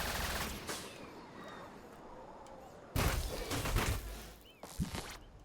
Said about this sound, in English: Has 2 machine guns, and you can either fire them both to drain your ammo, or fire them alternatively to save a ton of ammo.